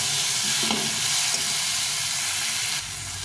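Chopped tomato with salt and turmeric fries in hot oil in a pan, giving a loud, dense, steady hiss and sizzle up close that eases slightly near the end.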